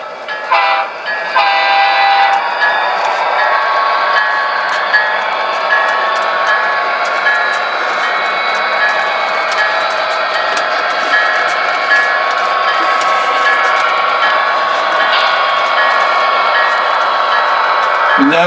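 Amtrak locomotive-hauled train rolling steadily on rails near Caddy Yard, a continuous loud rumble and wheel roar throughout with bright squealing tones, a brief horn-like burst near the start.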